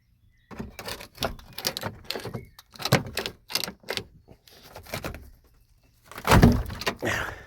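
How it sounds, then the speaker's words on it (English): Several sharp clunks and metallic rattles in quick succession as the stiff door of an old, neglected Mk2 Volkswagen Golf is worked open, ending in a louder thud near the end. "Let's see if we can get this door open."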